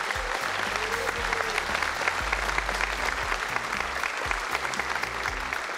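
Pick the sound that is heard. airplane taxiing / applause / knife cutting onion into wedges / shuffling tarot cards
applause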